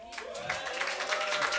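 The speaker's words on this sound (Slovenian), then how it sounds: "imamo tudi mi en velik aplavz za publiko" Audience applause at a live radio concert by a band, a brief burst of crowd clapping at moderate distance mixed with a voice talking over it.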